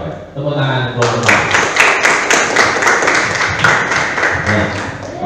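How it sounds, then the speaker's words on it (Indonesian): Students in a classroom clapping together in a group, a burst of rhythmic patterned claps following a brief spoken cue. "Tepuk tangan kelompok."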